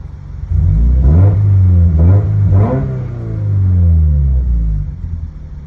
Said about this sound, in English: I want to hear the engine because it sounds like it's got a V8.